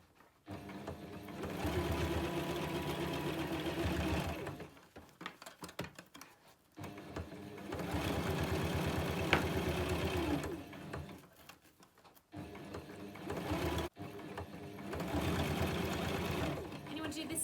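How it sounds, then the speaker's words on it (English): Sewing machine stitching Velcro around a fabric Christmas cracker, running in several long steady whirring bursts with short breaks, close and clear, with someone speaking in the gaps. "So just sewing all the way around."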